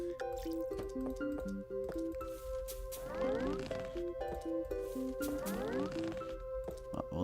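Water droplets and gentle splashing as a plant is watered in the Zen Garden of the video game Plants vs. Zombies, light repeated drips alongside bright melodic game music.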